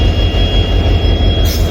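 A train of the Karwar Express with three engines and luggage rakes, where locomotives are being coupled to coaches: a loud, steady rumble of heavy rail machinery, with a higher hiss rising near the end.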